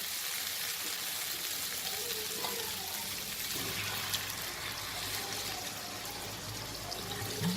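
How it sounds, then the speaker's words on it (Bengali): Water poured into a pan of fried spices with potatoes, rice and pointed gourd for a Bengali vegetarian dish, a continuous close splashing and hissing stream that carries on throughout. "এবার আমি এতে পরিমাণ মতো জল দিয়ে দেবো।"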